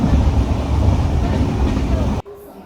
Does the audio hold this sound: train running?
yes